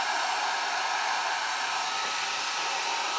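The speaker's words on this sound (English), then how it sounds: "don't be afraid to grab your hairdryer and just clean it up a little bit." A hair dryer blows steadily over a wet watercolor painting, a continuous close, even airy roar with no talk.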